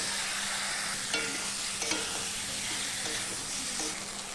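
Potatoes frying in hot spiced oil give a loud, steady sizzle close by, with a few brief stirring scrapes breaking through the continuous hiss.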